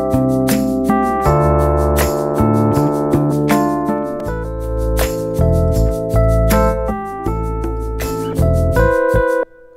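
Logic session player piano, bass and percussion play together through a mastering processor, a steady groove of piano chords, deep bass notes and crisp percussion hits, full and loud throughout before stopping abruptly.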